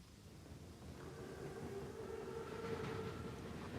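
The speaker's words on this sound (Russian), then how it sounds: "Поезд прибыл вовремя" An armored train from the World War II shooter Call of Duty: WWII rolls in with a steady mechanical rumble and clatter that swells toward the end, a faint sustained whistle-like tone running through the middle, no voices over it.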